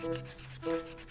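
Sandpaper rubs against a car's ignition contact points in two short close strokes, a quick scratchy rasp repeated alone.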